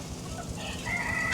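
Chickens on a poultry farm cluck and call continuously at moderate loudness, several birds overlapping, with a sharper, louder call rising at the very end.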